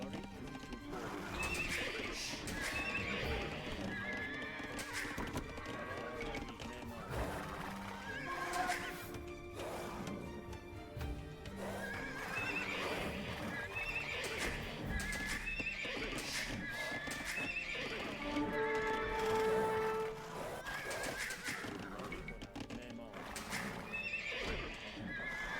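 Horses in a real-time strategy game neigh and whinny repeatedly over a constant clatter of hooves and busy battle effects, with a faint voice underneath.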